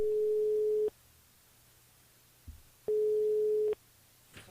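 A telephone line gives a busy tone after a call is cut off during a live radio broadcast: two clear, steady beeps separated by a pause, with faint line noise between them.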